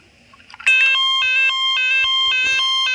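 A Star Impex toy ambulance sets off its electronic siren after a soft handling click, a loud, close, two-tone beeping wail that repeats in a quick, steady electronic pattern.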